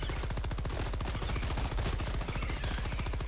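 Sustained automatic gunfire in Helldivers II, a fast, relentless stream of evenly spaced shots hammering on without pause throughout, loud and close, with no voices over it.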